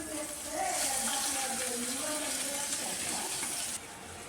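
Boiled Maggi noodle water drains through a metal strainer into a bowl, a steady close splashing pour with a bright watery hiss that runs the whole time and eases off near the end.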